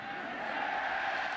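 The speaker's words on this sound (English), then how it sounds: "Crowd cheers as Ferguson gets it off" Stadium crowd at a 2003 college football game, Fresno State at top-ranked Oklahoma, roaring steadily as a kick gets off, a dense continuous cheer with no pauses across the whole moment.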